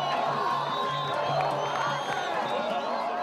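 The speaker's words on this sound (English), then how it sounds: "the crowds are shouting and screaming" Dense crowd shouting and screaming in Cairo, Egypt during protests against President Hosni Mubarak, a steady loud roar of many voices with whoops and cries throughout.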